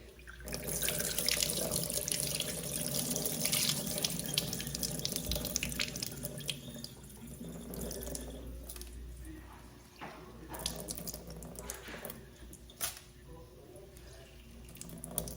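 Water pours and splashes steadily into a sink as a pot of rice is drained by hand, with wet squishing and dripping, close and continuous.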